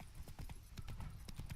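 Horse hooves clip-clop in a quick, steady rhythm from The Witcher 3: Blood and Wine, the hoofbeats close and clear over a low ambient bed.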